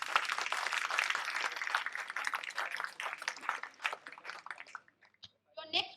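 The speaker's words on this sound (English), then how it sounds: "I think he deserves a big round of applause" Quiz show audience clapping in a dense, steady burst that thins out and fades, followed by a short pause and a voice speaking.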